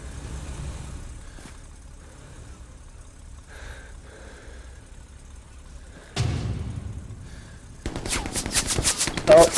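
Machine gun fire in the shooter Hell Let Loose: a quiet stretch gives way to a loud, close, rapid rattling burst near the end, followed by a sustained string of fast shots.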